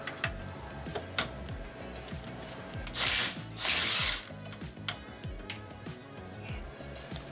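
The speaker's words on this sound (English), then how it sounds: "you can see I'm removing the bottom right bolt. Once I have that loose, then I remove the top bolt" A ratchet wrench clicks rapidly in short bursts as brake caliper bolts are removed on a Cadillac Escalade, with close, quiet metallic ticking and a couple of brief louder scraping rustles.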